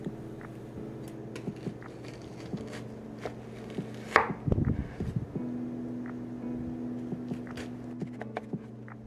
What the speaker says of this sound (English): Now cut 1/2 yellow onion into wedges.